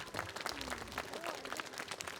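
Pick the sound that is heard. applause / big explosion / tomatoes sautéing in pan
applause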